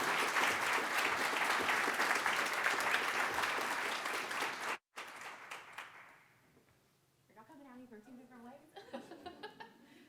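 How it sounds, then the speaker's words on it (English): Dense, loud applause from a graduation audience honoring leadership program co-chairs, holding steady for several seconds, then cut off and fading as a voice begins talking. "they definitely deserve a large round of applause"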